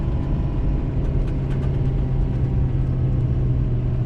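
A tuned Ford Powerstroke diesel pickup hauls over 30,000 lb up a steep grade, its engine a steady, heavy low drone and rumble that holds constant and close throughout, with no talk.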